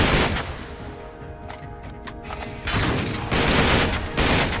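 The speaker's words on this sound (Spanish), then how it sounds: "Deja de disparar así de feo" Bursts of rapid gunfire from the video game Uncharted 3 ring out loud and close, with dense automatic volleys and several distinct shots recurring throughout.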